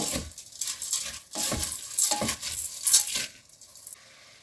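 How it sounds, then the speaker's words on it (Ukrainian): Lentils are stirred and fried in a pan over high heat. A utensil scrapes and scrapes in uneven strokes against a steady sizzle, close up, with no voices. "Перемішую і смажу періодично, обов'язково треба перемішувати, щоб не пригоріла наша чечевиця, так як вогонь великий"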